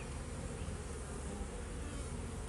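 Honeybees buzzing at an open hive in an apiary during a colony inspection, a dense steady hum of many bees very close and continuous with no pauses.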